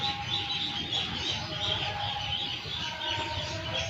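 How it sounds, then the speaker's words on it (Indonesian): A dense chorus of poultry calls, clucking and quacking blended together, continuous and moderately loud, with no speech. "kalian juga jangan heran guys kalau itu bunyi suara ayam, bebek"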